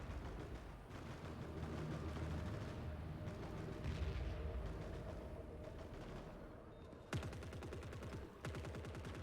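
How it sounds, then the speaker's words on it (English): Rapid volleys of gunfire from a squad shooting in The Forever Winter video game, sustained bursts layered over a dense battle roar, with sharp machine-gun rattles breaking out near the end. "They're just shooting."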